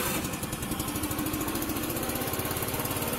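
A Racer Corvus 50 scooter's small 50cc engine runs close by with a loud, steady buzzing putter and a fast, even pulse, holding a constant idle throughout with no voices.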